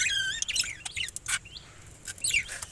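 Caged pet birds including a blue bird chirping indoors, a string of quick high tweets and trills close by, lively and repeated, with no talk.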